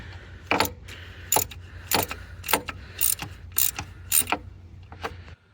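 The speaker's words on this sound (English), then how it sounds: "You can use ratchet and 13 mm to pull this one out." Ratchet with a 13 mm socket unbolting thermostat screws on a Dodge Caravan 3.3L V6, giving a series of crisp, close clicking bursts in an irregular rhythm.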